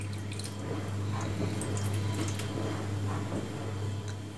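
A little water is poured into a baking tray beneath a grill rack for chicken skewers, a steady close splashing and trickling with faint drips over a low hum, no voices.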